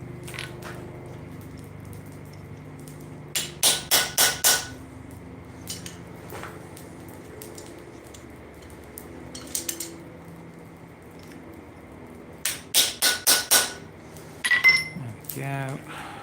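A blunted chisel is hammered into hot steel while a small mouse is forged, giving clusters of four or five sharp metallic strikes in quick rhythm, separated by quieter pauses.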